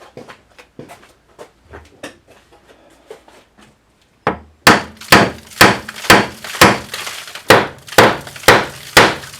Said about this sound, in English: So give it a tap with the hammer.